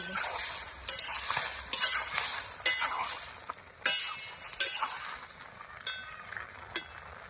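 A spoon clinks and scrapes around a pot of boiled tomatoes being stirred for homemade tomato sauce, with sharp metallic taps repeating roughly every second over a soft simmering hiss, close and moderately loud.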